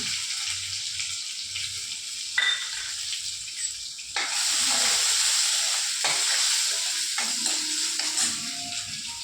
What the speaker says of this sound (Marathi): जिरे आणि मोहरी जास्त चांगली तर चढली की कढीपत्ता टाकायचा त्याच्यामध्ये त्यानंतर ठेचलेला लसूण